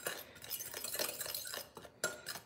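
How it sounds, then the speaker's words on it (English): Powdered monk fruit sweetener and other dry ingredients stirred in a bowl, a steady scraping and clinking of a utensil against the dish, close and continuous with a few sharper knocks near the end. "We're just gonna stir those up."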